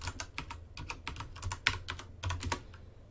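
Quick, close keystrokes on a computer keyboard as a password is entered, an uneven run of crisp clicks over about three seconds, with no talking.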